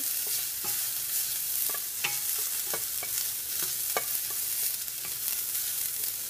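Onions and fenugreek seeds fry in oil with an even sizzle while a utensil scrapes and taps the pan in a series of sharp strokes about once a second.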